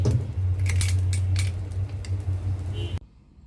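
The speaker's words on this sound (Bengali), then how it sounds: "এখন আমি ডাকনাটা লাগিয়ে দিচ্ছি" A metal lid clinks and rattles as it is set onto a cooking pot of simmering curry, a few close jangling taps over a steady low hum, then a sudden cut to quiet.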